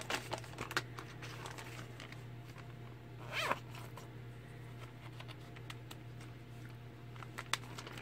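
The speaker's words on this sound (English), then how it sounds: "Let's see if I can get the Ziploc to unzip." A plastic Ziploc bag is pulled open in a quiet room, giving one brief, soft rasping burst midway, with scattered faint clicks and crinkles around it.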